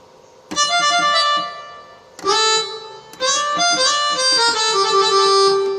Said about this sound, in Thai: อันนี้เสียงบาสอีกบาสหนึ่ง